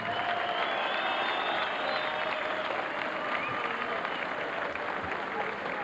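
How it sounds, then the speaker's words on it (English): A boxing arena crowd applauds at a championship fight night, a dense, sustained wash of clapping from a large audience filling the whole stretch at an even level. "a round of applause please for one of the finest world champions of the 1990s, Steve Robinson."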